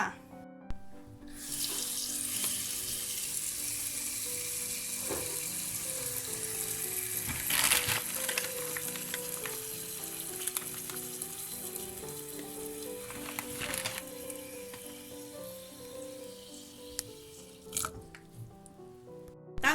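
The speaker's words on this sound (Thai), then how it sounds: "กระทะใส่น้ำมันพืชนะคะเพื่อนหนึ่งช้อนโต๊ะก็พอนะคะ ตามด้วย กระเทียมนะคะ" Steady hiss and crackle of garlic frying in a tablespoon of vegetable oil in a pan, with occasional clinks and scrapes, no talking.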